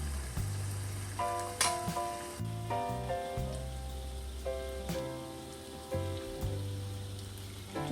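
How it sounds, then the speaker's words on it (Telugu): Aloo palak pakoda balls deep frying in a kadai of hot oil, giving a steady close sizzle with repeated low thumps and clatter running all the way through. "దీన్ని బాగా డీప్ ఫ్రై చేసేసుకొని తీసేసుకున్నాను"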